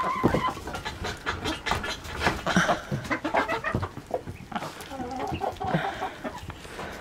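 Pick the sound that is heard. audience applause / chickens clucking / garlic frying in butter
chickens clucking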